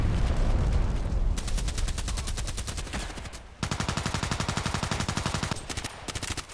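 Rapid automatic gunfire in the video game Contract Wars, a loud, dense stream of rounds that runs continuously, breaks for a moment in the middle, then resumes with a clear, evenly spaced rhythm of shots.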